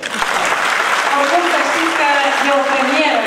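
A crowd at an awards gala applauds with loud, sustained clapping, steady and close throughout, with voices faintly under it.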